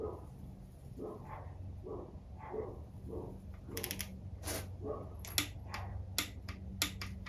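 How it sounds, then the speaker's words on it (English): A wrench tightens a bolt on a single-cam Honda engine being built for the track to 33 foot-pounds, giving a run of sharp, close ratcheting clicks over a quiet workshop background. "Now we're just gonna tighten this down."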